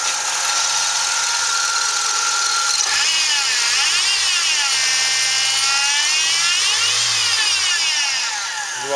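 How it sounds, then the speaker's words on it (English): A 1999 Chevy Cavalier 2.2 with an automatic and a new alternator idles loudly and steadily, with a whining power steering pump that shifts in pitch partway through, up close to the engine. "New alternator on, power steering pump is what you hear from making noise."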